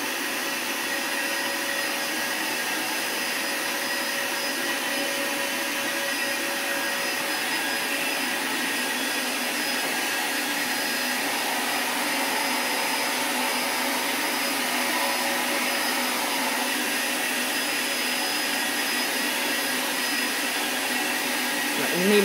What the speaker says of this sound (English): got a vacuum over here too.